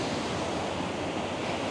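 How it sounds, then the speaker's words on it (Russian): Open-sea surf breaks on a long beach in Phuket with squeaky sand, a continuous loud broadband wash of waves mixed with wind buffeting the microphone. "Открытое море, волна."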